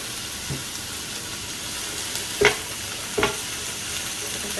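Chopped onion drops into a chicken stir fry and gets stirred, a steady hot sizzle throughout with a few brief scrapes of the spatula against the pan.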